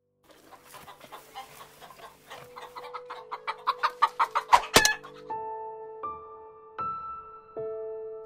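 A chicken clucks close by in a rising run of short, evenly spaced calls that grow louder, followed by a few longer, steadier squawking notes, with no talking.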